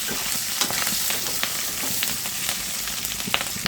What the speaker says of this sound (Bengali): কতগুলো কাঁচামরিচ আমি ভেজে দিয়ে দিচ্ছি